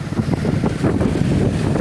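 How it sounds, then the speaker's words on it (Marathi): Strong monsoon waves churn against the coast at Bankot-Velas in Ratnagiri, a loud continuous roar of surf mixed with heavy wind buffeting the microphone. "जोरदार लाटा उचलायला लागल्या आहेत."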